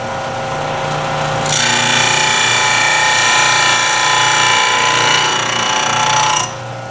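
A skew chisel is pressed flat against a spinning 8-inch grinding wheel on its platform, giving a steady, bright, abrasive hiss that starts abruptly and stops after about five seconds over the wheel's low hum.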